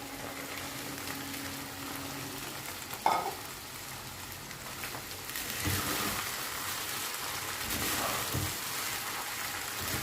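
Rice for chicken fried rice is stir-fried in a hot pan, giving a constant crackling sizzle with a sharp clank near the start and scraping stirs throughout.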